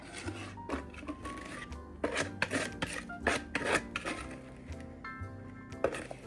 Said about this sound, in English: So since that's been sitting there, I'm going to give it a good stir.